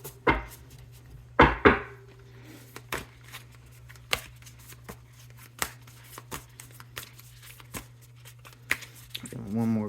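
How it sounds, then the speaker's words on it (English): Tarot cards shuffled by hand in a few quick riffling bursts near the start, followed by softer scattered taps and card handling against a steady low hum. "One more good shuffle."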